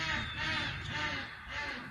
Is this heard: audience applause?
no